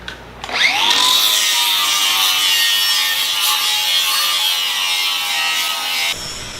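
A power tool grinding mill scale off a steel plate for a jib crane gusset, spinning up sharply and then holding a loud, steady, high-pitched abrasive whine with no talk before stopping abruptly.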